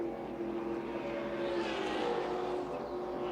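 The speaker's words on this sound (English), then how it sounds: "Car number 27 into turn 8 another time." NASCAR Winston Cup stock cars racing at the 1983 Winston Western 500, a continuous engine roar from a distance that swells slightly midway, with no talk.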